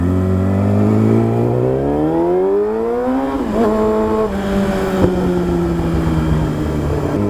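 A Yamaha R6 sport motorcycle engine on a morning ride, its pitch climbing steadily through the gears and then easing back, a continuous close, loud drone with no voices.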